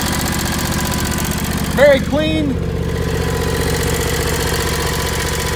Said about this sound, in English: 25 horsepower liquid cooled electronic fuel injected engine, runs great